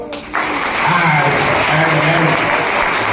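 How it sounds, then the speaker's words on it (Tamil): An audience at a Yadava Mahasabha Mumbai prize-giving ceremony breaks into applause for the association's office bearers, dense clapping starting abruptly after a short pause and continuing steadily and fairly loud to the end. "அந்த சங்கத்தினுடைய நிர்வாகிகள் அத்தனை பேரையும் ஒரு நல்ல கைத்தட்ட கொடுப்போம்"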